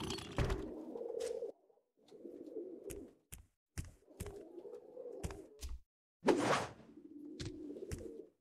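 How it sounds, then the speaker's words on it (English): Pigeons coo in the Madagascar 3: Europe's Most Wanted video game, a series of soft repeated calls broken by short sharp game sound effects and brief whooshes, fairly close and clear with no talk. "We've got pigeons!"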